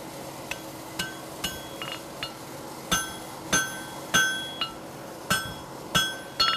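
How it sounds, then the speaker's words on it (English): A blacksmith's hammer strikes a horseshoe caulk on an anvil in about a dozen sharp, ringing metallic blows at an uneven working rhythm, some louder and more resonant than others, close up and without speech. "Notice I'm hitting not flat and parallel to the anvil, hitting with my hammer handle up slightly, driving the back of the caulk into the anvil"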